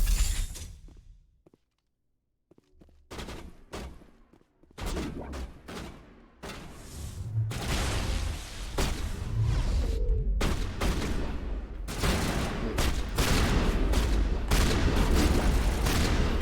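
Shotgun blasts in Mass Effect, heavy sharp booms at first spaced apart after a quiet start, then giving way to dense, continuous loud gunfire and impacts through a firefight.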